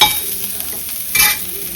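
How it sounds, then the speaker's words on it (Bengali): Chopped onions frying in a pan, a loud, dense hiss of hot oil with a brief surge as they are stirred, close up and with no voices. "এই যে পেঁয়াজগুলো ভেজে নেব"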